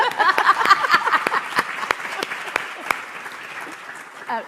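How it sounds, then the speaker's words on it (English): A room of people claps, loud at first and gradually thinning out, with a few voices audible under the applause. "we'll give ourselves a round of applause"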